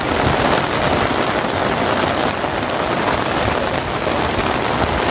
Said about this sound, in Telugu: ఈ వర్షం బాగానే వచ్చేటట్టుంది బాగానే పడుతుంది